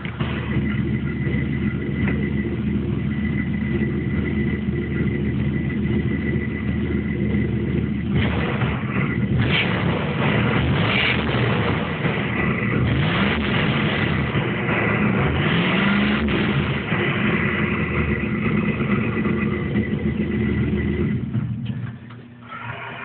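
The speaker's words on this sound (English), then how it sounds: "give it a couple revs, just so you can get a feel for what the stock exhaust sounds like" A 1989 Dodge RAM D100 truck engine on its stock exhaust runs at a steady loud level for about 20 seconds, with a few revs rising in the middle before it drops off near the end.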